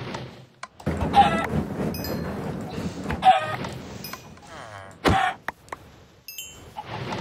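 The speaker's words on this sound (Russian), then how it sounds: "О, курица еще одна." A Minecraft chicken clucks in a Sky Block map, giving a few short clucks spread over several seconds among other game thumps and clicks.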